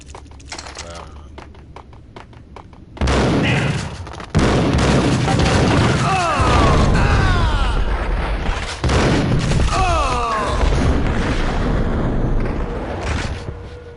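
A bomb blowing up in the Max Payne video game: a sudden loud boom followed by sustained rumbling and scattered gunfire-like cracks, with a voice talking over the din.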